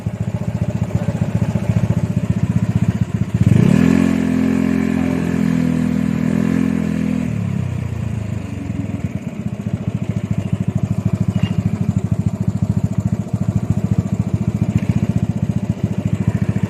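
A motorcycle engine runs steadily nearby, revving up briefly and holding a higher pitch before dropping back to a rough, rattling idle.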